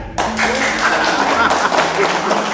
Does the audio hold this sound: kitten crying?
no